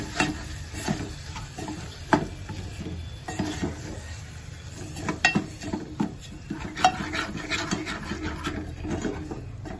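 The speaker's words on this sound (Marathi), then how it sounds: "हे पातळ रस्स्यासाठी आपण वापरणार आहोत ते, आणि ते ते तेलामध्ये चांगलं फ्राय करून घ्या." A spice paste fries in oil for a village-style mutton curry, with a low, steady sizzle and occasional clinks and scrapes of a spoon stirring in the pan.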